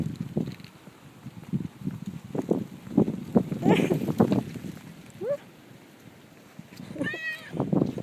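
A friendly outdoor cat meows a couple of times, short rising cries over wind noise and footsteps as someone walks and talks to it.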